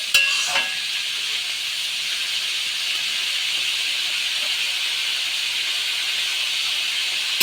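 Boiled vegetables for fried rice sizzle in a hot pan as they are stirred, a loud continuous hiss with a few scraping clinks at the start, and no talking.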